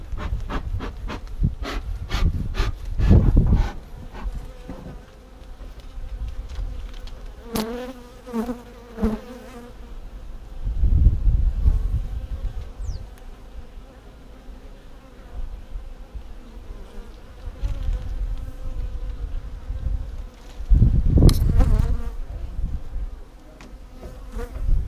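A dense, steady buzzing of many honeybees fills the scene close by from an open hive, rising and falling in intensity, with occasional rustles and handling noises.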